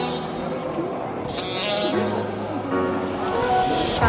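Goats bleat at Petra in Jordan, a few wavering calls under ongoing chatter and outdoor bustle, fairly close and moderately loud.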